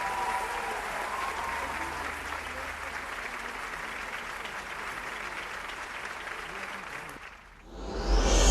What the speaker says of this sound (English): If they're correct, you should be clapping louder, right?